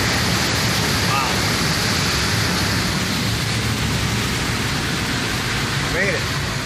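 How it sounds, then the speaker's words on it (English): Heavy rain pours onto flooded ground at a lumber yard in Litchfield, a loud, unbroken rushing hiss of water filling the whole scene. "just a little bit of rain here in Litchfield"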